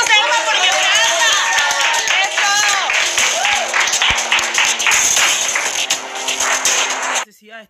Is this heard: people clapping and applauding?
yes